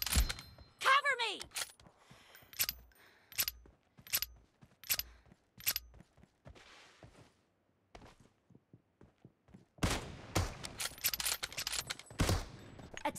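Gunfire in a first-person shooter video game, with bursts of rapid shots and single cracks separated by a brief quiet stretch, followed by denser firing near the end.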